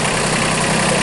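A John Deere 4110 tractor engine idles as it warms up to operating temperature, a steady, close, loud diesel drone with an even low throb and no voices.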